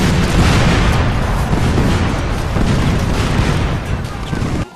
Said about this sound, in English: Explosions are big and powerful